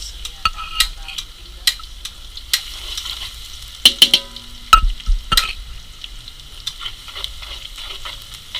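Garlic sautés in a pan for a Filipino fiesta dish, a soft continuous sizzle broken by scattered sharp clicks and scrapes of a utensil stirring against the pan, some clustered knocks midway, no talk.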